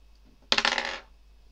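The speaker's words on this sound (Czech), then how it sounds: "můžeme zkusit další hod kostkou" A die is rolled for a Dungeons & Dragons game, giving one loud, close clattering rattle that lasts about half a second. Near silence comes before and after.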